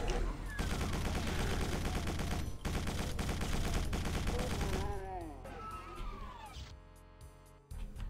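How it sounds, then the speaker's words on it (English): Chaingunner enemies firing in the Doom mod Whispers of Satan, dense rapid retro gunfire bursts at high volume, cut by a brief gap and fading into lighter game sounds. "Sniping chain gunners."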